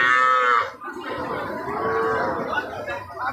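Calves and cattle low at a livestock market in Joypurhat, a loud, drawn-out moo opening the clip and a second, longer bellow following close by, with faint murmur of the crowd beneath.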